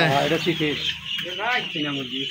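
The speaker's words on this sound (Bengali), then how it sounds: "এটা কি মুরগির জাত ভাই? তিতির মুরগি নাকি?" Guinea fowl (titir) on a farm give a run of close, harsh clucking calls in several bursts with brief pauses between them, loud and alone without talk.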